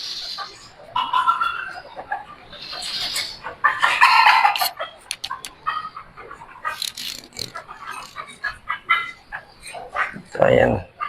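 Chickens cluck at a pigeon mart, including a frizzle-type bird whose feathers grow backward, with several close clucks and squawks scattered through steady chatter of people talking nearby.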